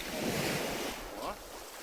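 Sea waves wash onto Haeundae beach in Busan, a soft broad surf rush mixed with buffeting wind noise, fairly quiet and swelling slightly before easing off.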